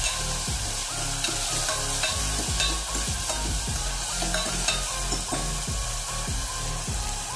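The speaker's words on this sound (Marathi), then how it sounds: "आता याला व्यवस्थित परतून घ्यायचं आहे।" Chopped sponge gourd sautés with garlic in a hot pan, giving a steady loud sizzle broken by repeated scraping strokes of a stirring spoon, close up with no talk.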